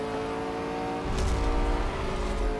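A McLaren 765LT in the Real Racing 3 racing game holds a steady engine drone, then surges into a louder, rougher revving roar with a hint of tire noise, with no voices.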